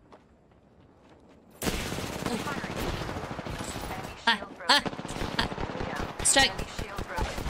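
Automatic and rapid weapon fire from an Apex Legends match bursts in after a quiet start and keeps up in dense volleys, with sharper close shots standing out; a player speaks briefly over it.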